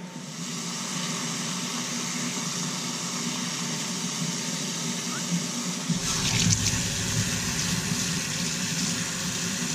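Steady running water from a tap rinsing shampoo off a guinea pig during a bath, a continuous close hiss that grows fuller and splashier partway through, with no talk.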